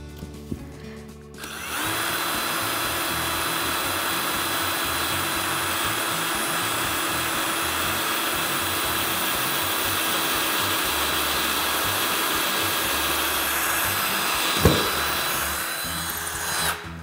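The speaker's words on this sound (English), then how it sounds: "So I'm just gonna go ahead and drill a spot here" A power drill bores into a metal office filing cabinet, a loud, sustained high-pitched whine that starts abruptly after a brief handling noise, runs steadily for about thirteen seconds, then stops with a small clunk.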